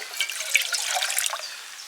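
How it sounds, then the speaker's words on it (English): Thin stream of water, 30 ml, poured onto rice during a solo camp in the woods, a brief faint trickle and splash lasting about two seconds. "30ml of water for that rice,"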